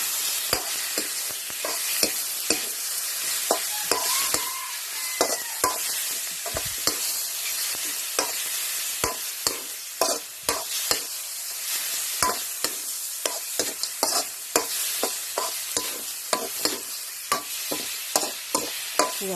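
Thai curry paste stir-fried in a pan for a chicken and oyster mushroom curry, with steady close sizzling broken by frequent scraping utensil strokes against the pan, no voices.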